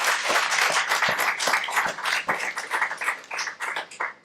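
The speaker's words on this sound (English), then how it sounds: "Please give him a round of applause." An audience applauding for a state governor at a civic visit in Orange City, New Jersey, a scattered round of claps from a modest crowd, fairly close, thinning toward the end.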